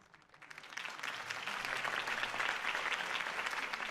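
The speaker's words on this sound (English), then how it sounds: "If only Mr. Wayne, my campaign's largest backer, could have heard that applause" A crowd applauds Harvey Dent's campaign speech in a Batman video game, starting softly and swelling within a second into a full, steady roar of clapping that holds to the end.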